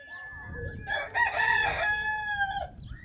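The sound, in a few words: chickens, rooster crowing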